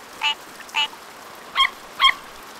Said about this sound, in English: This frog sounds like a duck.